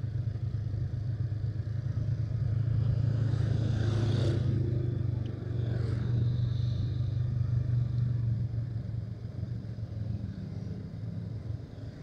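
A car passes close alongside on a road near Lemah Putih, Majalengka, its loud engine rumble swelling as it draws near and then easing off, with steady road noise underneath.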